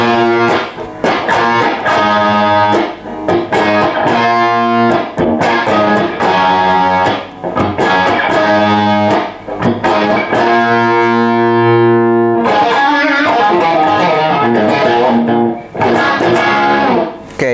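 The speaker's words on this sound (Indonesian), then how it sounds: "kita main di power chord" Distorted electric guitar power chords chug in a driving rhythm, loud and continuous with short gaps between bursts, played alone without talk.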